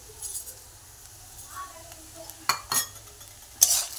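Sabudana khichdi being stirred in a pan over low heat, with faint sizzling and a few sharp spoon clinks against the pan, close by and otherwise quiet.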